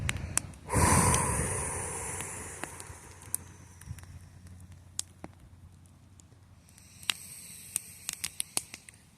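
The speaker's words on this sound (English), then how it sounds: "Let's breathe out all that stuff." A deep, forceful exhalation rushes out near the start, a long breathy whoosh that fades, followed by quiet scattered clicks and small taps.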